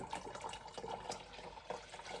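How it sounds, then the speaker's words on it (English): Warm water running steadily into a bucket being filled for blueberry mead, a continuous splashing rush with small gurgles, close and fairly quiet, no talking. "The bucket is really filling up."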